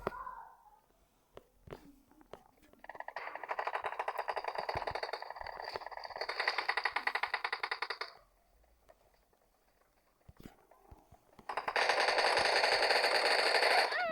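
Automatic gunfire rattles in two long bursts in the PUBG video game, with an M200 sniper rifle in play, moderately loud with sharp isolated shots and quiet gaps between.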